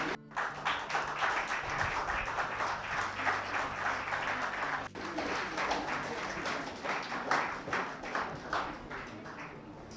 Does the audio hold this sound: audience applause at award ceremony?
yes